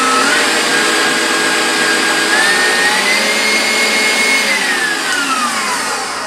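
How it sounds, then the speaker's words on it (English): Electric mixer running steadily on high speed while mixing gingerbread cheesecake batter, a loud continuous whir with a rising then falling motor pitch and no talking. "I'll put the mixer on high speed"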